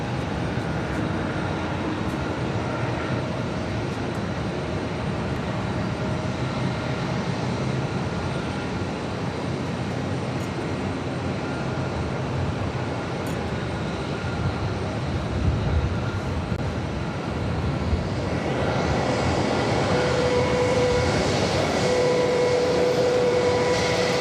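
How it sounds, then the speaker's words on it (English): Delta Airbus A330 on its takeoff roll down runway 22 left at Boston Logan, a steady distant jet rumble that builds into a louder, brighter engine roar and whine near the end. "Delta A330 heading to Athens, Greece, now rolling down 22 left."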